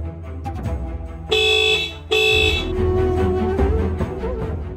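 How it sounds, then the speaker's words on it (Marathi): A car horn blares in two loud honks, the first about half a second long and the second slightly longer after a brief gap, over a busy background of ambient noise with no talking. "तुम्ही हॉर्न वाजवा."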